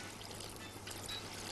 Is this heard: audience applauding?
no